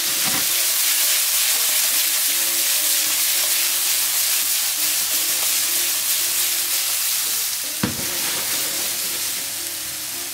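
Zucchini frying in a pan with freshly ground pepper while being stirred, giving a steady close hiss and sizzle with a sharp clack of the spoon near the end, no talking.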